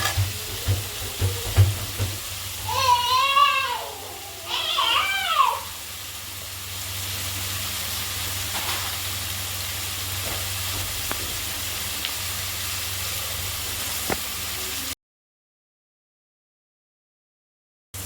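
Onions and vegetables sauté in a pan for Maggi noodles, a steady soft sizzle running throughout, with a few clinks and scrapes of a spoon early on before the frying hiss settles.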